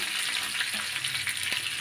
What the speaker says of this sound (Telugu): ఆయిల్ వేసుకుంటున్నాము మెంతులు ఇవన్నీ పోపు గింజలు వేసుకోనివ్వండి